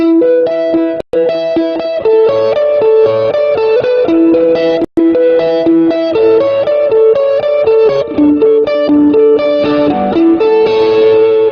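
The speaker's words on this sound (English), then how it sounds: "So I have the echo machine here. This is a Behringer pedal." An electric guitar riff from an 80s cover, run through a Behringer echo pedal set for ping-pong delay, loud and continuous with repeating notes bouncing back, broken by two brief dropouts.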